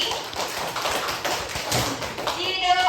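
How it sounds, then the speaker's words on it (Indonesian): A class of children claps for a student in a coding and AI lesson: brisk, overlapping hand claps fill the short stretch, with children's voices mixed in. "Kita kasih tepuk tangan dulu untuk Jaki"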